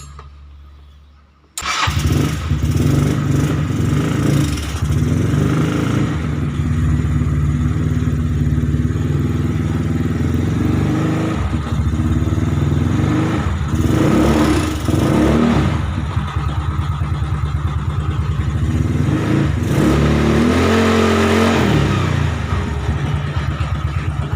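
A Mio 158cc motor scooter with a hard-starting fault cranks and catches on a cold morning engine, then idles loudly and revs up and down several times, close by and without talk.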